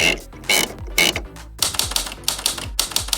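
Numbers are typed into table cells on a computer keyboard, heard as quick clacking keystrokes in several short bursts separated by brief pauses, close and clear with no talking.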